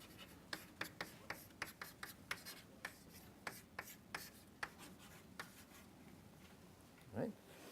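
Pen or chalk writing by hand during a probability lecture, a run of short, faint scratchy strokes in an irregular rhythm, with a brief low voice sound near the end.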